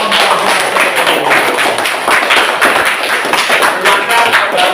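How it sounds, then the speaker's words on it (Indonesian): Applause from a classroom of students for the first group after their robot algorithm demonstration, a dense, steady clatter of many hands clapping close by for the whole stretch. "tepuk tangan untuk kelompok 1"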